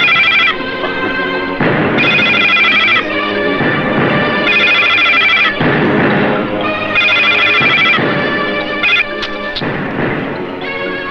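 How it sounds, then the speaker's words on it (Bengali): Loud, clear and continuous, a mobile phone rings out a repeating melodic ringtone in short bursts in a dramatic film scene. "এটা যুবরাজের ফোন"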